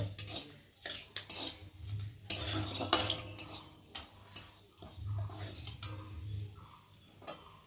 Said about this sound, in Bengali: আর দেবো একটা গরম মশলা, দারচিনি আর এলাচ। একটু ভালো করে ভেজে নেব।